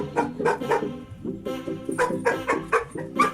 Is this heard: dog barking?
yes